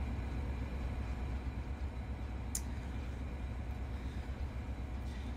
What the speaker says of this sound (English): that freight train's departing